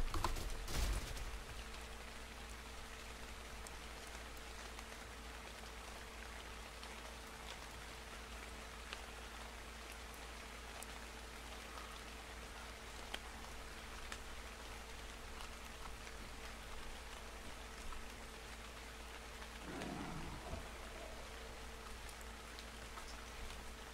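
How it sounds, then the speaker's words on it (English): Steady rain falling in the survival video game ARK on Barbary Island, a constant hiss throughout with a sharp knock near the start and a faint low thump later. "I literally can't hear over the rain"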